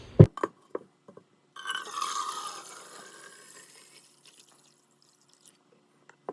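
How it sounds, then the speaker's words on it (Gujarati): Water pours into a copper jug in a short gurgling burst that fades to a trickle, followed by a few sharp knocks and clinks of metal close by in a quiet room. "અને તો આને પણ હું ભરી લઈશ પાણી"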